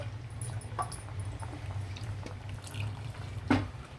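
Water poured into cooking dal that has stuck to the pot, a faint, close trickle and splash over a low background hum, with a small clink near the end.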